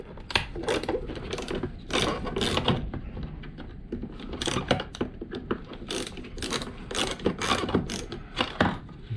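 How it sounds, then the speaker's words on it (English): A screw being backed out of a Lexus CT200 mirror cover gives bursts of close, crisp ratcheting clicks, several separate runs with brief pauses between them. "Just in case, I take off this screw as well."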